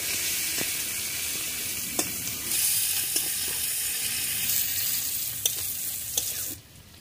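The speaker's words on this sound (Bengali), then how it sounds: "এই পেঁয়াজগুলো ভেজে নিচ্ছি" Onions frying in a pan for village-style chicken kosha, a steady hissing sizzle broken by a few sharp clicks of a stirring spoon before it drops off quickly at the end.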